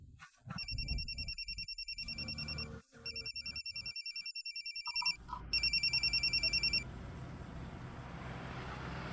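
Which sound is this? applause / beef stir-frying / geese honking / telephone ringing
telephone ringing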